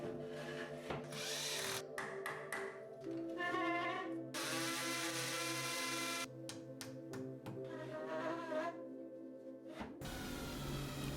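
A power drill drives screws to fasten a wooden shelf unit against a brick wall, whining in several bursts of rising and falling pitch with short pauses between, close and clear.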